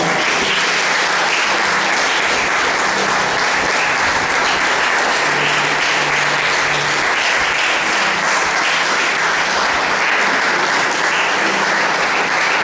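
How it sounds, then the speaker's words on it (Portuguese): A church congregation claps loudly and steadily through a long, unbroken stretch of applause during a worship service, with faint voices murmuring underneath. "Vamos aplaudir ao Senhor."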